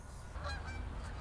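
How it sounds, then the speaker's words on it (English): A flock of geese honking together, a busy chorus of overlapping calls heard from a short distance. "Oh my god, look at all the geese."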